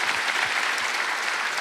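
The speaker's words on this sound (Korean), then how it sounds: "여러분 안에가 이미 기쁨 드린 거 믿으시면 박수 하세요" Worshippers at a Korean Wednesday church service clap in a sustained, dense burst that stays loud and uniform from start to finish, with no talking over it.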